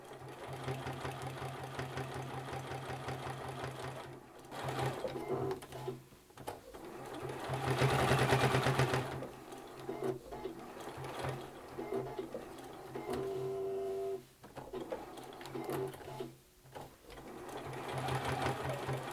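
A sewing machine stitches around the edge of a hexagon mini quilt, its steady rapid needle chatter running for long stretches with a few short pauses and changes in speed, close and fairly quiet.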